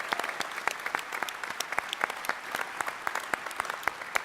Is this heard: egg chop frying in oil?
no